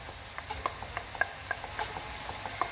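Ground beef with grated fresh carrot sizzles quietly in a pan, with scattered clicks and scrapes of a utensil stirring and mashing the meat throughout.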